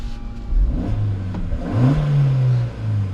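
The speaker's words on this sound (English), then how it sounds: "That's how it sounds with the window down" Close engine of a manual Maruti Jimny in normal 4x2 mode accelerating hard from 0 to 100 with the window down, revving up through gears with pitch rising, dropping at shifts and climbing again, loud and continuous with road rumble.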